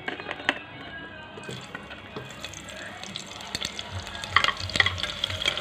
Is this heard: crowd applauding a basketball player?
no